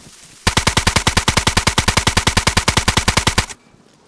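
Sustained automatic gunfire from a weapon in the survival game DayZ, seen in third person: a rapid, evenly spaced burst of about thirty loud shots lasting three seconds, then a sudden stop.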